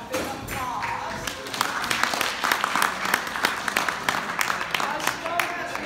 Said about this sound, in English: So let's give him a big applause.